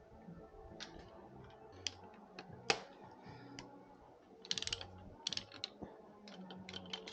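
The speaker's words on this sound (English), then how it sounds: "I'm going to start undoing these piston bolts on the caps" Ratchet clicks and metallic taps from loosening piston connecting-rod cap bolts on a 1987 Dodge D150 engine during teardown, sounding as short irregular ticks and clacks at close range, with small bursts of rapid clicking.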